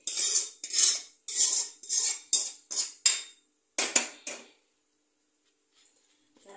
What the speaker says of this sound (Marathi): कढाई गार आहे मेथी मिक्स कर.